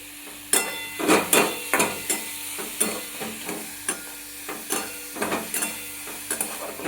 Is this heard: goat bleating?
no